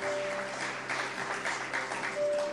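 Applause during a church service at GBI Tambak Siring, a congregation clapping in a brief, steady burst of moderate loudness.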